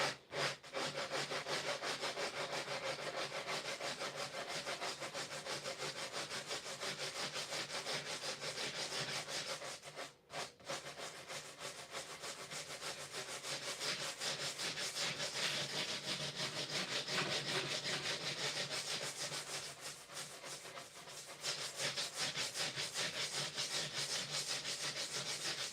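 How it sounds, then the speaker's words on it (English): Abrasive sanding along the seam of a fiberglass mold for a streamliner body, a steady close rasping scrape that runs almost continuously with one brief pause near the middle. "we're just sanding down that seam just a little bit."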